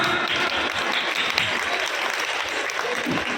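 Dense, sustained applause from a crowd gathered at a welcome ceremony, loud and steady throughout, with a voice faintly audible under it.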